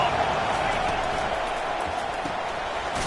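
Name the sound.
home crowd cheering on third down at football game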